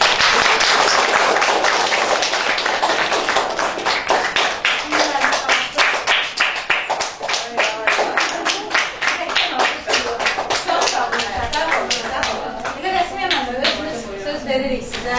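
A room full of people applauds a teacher at a talent academy masterclass, dense loud clapping that starts as a wash and thins into distinct rhythmic claps, with some voices mixed in.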